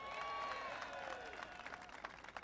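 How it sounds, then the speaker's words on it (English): An audience at a public address applauds and cheers in a dense, steady wash of clapping mixed with raised voices, loud at first and then slowly thinning. "they deserve a big round of applause"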